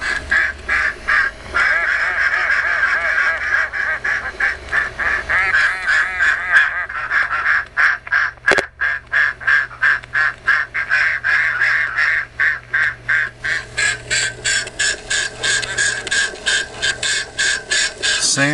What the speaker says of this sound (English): But listen to those giggling geese